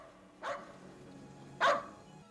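A dog in the 1982 horror film Poltergeist gives two separate sharp barks about a second apart, the second louder, against a quiet indoor background with no talking.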